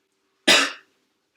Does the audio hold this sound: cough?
yes